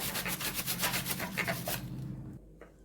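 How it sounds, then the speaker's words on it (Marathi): A vegetable is rubbed against a grater inside a plastic bag, giving quick rhythmic scraping strokes with crinkly rustle, close and fairly loud, fading after about two seconds. "मी फक्त याचा खिस घेणार आहे अजिबात हाताला लागत नाही आणि व्यवस्थित खिस पडतो"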